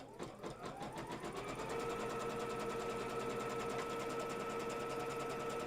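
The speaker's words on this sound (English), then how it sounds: "Now the next step is for me to stitch out my first placement piece." An embroidery machine stitches out a placement piece for an in-the-hoop quatrefoil quilt block, its needle running in a fast, steady mechanical hum that starts with a few quick pulses and then settles into a constant drone.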